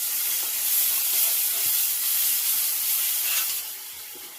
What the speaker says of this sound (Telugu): పచ్చి వాసన పోయేదాకా ఫ్రై చేసేసుకోవాలి.